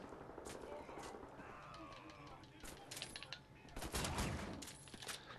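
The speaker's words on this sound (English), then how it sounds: "I like this shotgun. Definitely." Shotgun blasts ring out in Wolfenstein The New Order, several sharp bursts at irregular intervals that grow denser and louder toward the end, mixed with game effects and brief clatter.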